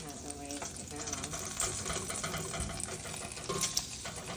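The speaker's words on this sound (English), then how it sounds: "Let's check on our bacon. So we're gonna just flip this over." Bacon strips sizzle in a pan as they are turned over, a continuous close crackle with scraping and a few bumps of the utensil.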